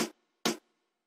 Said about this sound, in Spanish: Déjenme les pongo también de una vez el snare